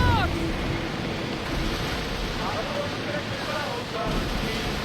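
Choppy ocean waves in Assassin's Creed Odyssey, a continuous rushing wash of surf and wind noise with faint swells, someone talking over it at moments.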